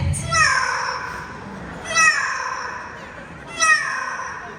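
A parrot at a bird show at Mandai Bird Paradise in Singapore imitates a fierce cat, giving three separate harsh, yowling calls that fall in pitch, spaced a couple of seconds apart, clear and close.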